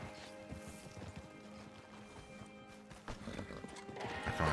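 Horse hooves clip-clop along in the Western video game Red Dead Online, a steady rhythmic trot under game music and ambience, with a neigh rising louder toward the end.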